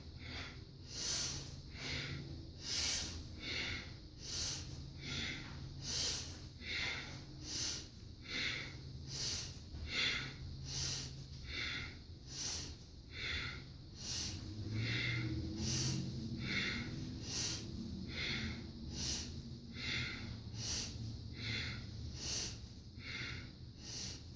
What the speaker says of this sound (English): When we breathe powerfully through the nose, through the back of the throat, we call this Ujjayi breath.